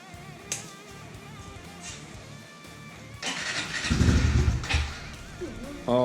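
A Honda CRF110 motorcycle engine is fired up after quiet fumbling, catching about halfway through with a loud burst, revving briefly and then settling into a close, steady running note.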